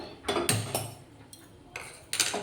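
A metal pan is set down on a gas stove with a few sharp clanks and clinks, close and fairly loud, separated by short quiet gaps.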